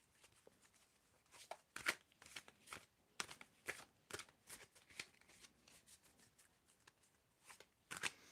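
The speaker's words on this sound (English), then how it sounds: "So, Luma, tell me when to stop shuffling." Tarot cards being shuffled by hand in quick, repeated riffling bursts, close and quiet, with short pauses between bursts and no talking.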